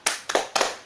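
Third-grade children in a classroom clap together in a rhythmic cheer, three crisp group claps spaced evenly within a second, close and clear.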